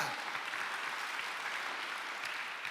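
A church congregation claps together during a sermon, a dense even wash of applause that stays steady and fairly soft throughout the short stretch.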